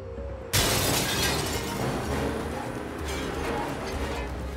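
A drunk man smashes a glass door in an after-hours mall in Augusta, Georgia: a sudden loud crash, then a long spill of shattering, tinkling glass that fades over several seconds.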